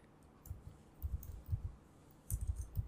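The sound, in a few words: typing a command on a computer keyboard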